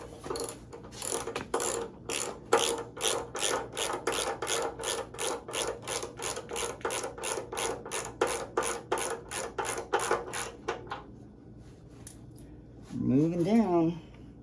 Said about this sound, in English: I'm gonna use my just my regular ratchet for a little while